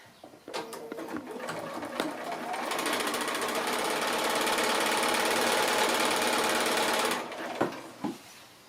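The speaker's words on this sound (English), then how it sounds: "And I'm just going to seam those 2 together." A sewing machine runs a steady, close-up seam joining two 2-inch-wide quilting fabric strips, its rapid stitching whir building and holding for several seconds before stopping, with a few handling clicks after.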